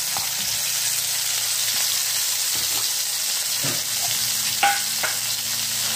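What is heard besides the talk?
vegetables and masala frying in a hot pan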